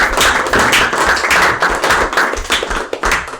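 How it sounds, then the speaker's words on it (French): A small group applauds their podcast project, steady close clapping from a few pairs of hands lasting a few seconds, loud and unaccompanied by speech. "Je pense qu'on peut s'applaudir pour ce projet-là."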